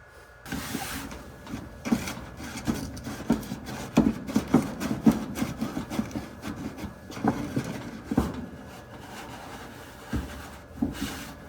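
A template is cut by hand, giving close, quiet, irregular scraping and cutting strokes with small knocks and pauses in between.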